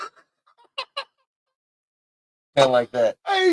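A person mimics the crow of a young rooster that has only just begun crowing, giving a few short, strained, honking bursts near the end, close to the mic, after brief quiet speech.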